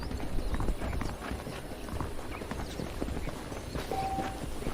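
Horse hooves clip-clop in a steady walking rhythm in Red Dead Redemption, moderately close against a dense, busy background of ambient game sound, with no talking.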